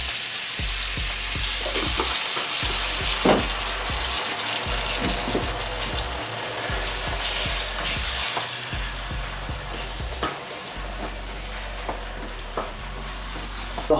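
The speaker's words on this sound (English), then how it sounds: "I'm now going to add some coconut milk just to sort of stop it burning." Thai green vegetable curry frying in a pan as coconut milk goes in, a steady close sizzle with scattered pops, bubbling and occasional scrapes of stirring, no voices.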